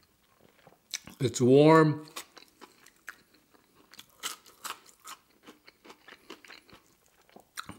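Crispy-coated Costco fries being eaten, a series of close, sharp crunchy bites and chewing, following a short spoken remark and a brief sung or hummed sound.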